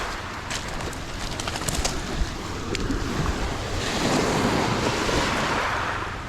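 Waves washing onto a lake beach on Kelleys Island, Ohio, forming a steady close surf wash with wind noise and some chirping birds, swelling louder toward the end, with no talking.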